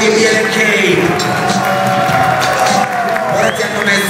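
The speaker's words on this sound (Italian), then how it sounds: "Fate ancora un applauso per Mori e BLK." Crowd applause and cheering at a freestyle rap battle in Milan, a steady dense roar of clapping filling the whole stretch, with voices mixed in.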